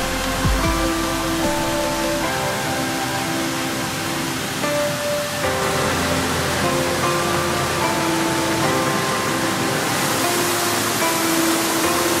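Steady broadband rush of the Gertelbach waterfalls in the Black Forest, a continuous even roar of falling water that stays loud and constant throughout with no voices.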